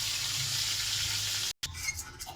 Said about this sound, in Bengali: এই যে এবার মাথা দুটো ভাজবো লাল লাল করে।